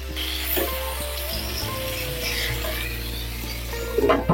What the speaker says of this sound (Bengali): নুন দিয়ে পটলগুলোকে এমন ভাবেই ভাজবো